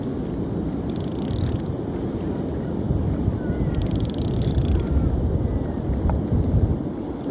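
A small fishing boat at sea churns along under heavy wind buffeting and wave wash, with a continuous low engine and water rumble and brief hissing gusts.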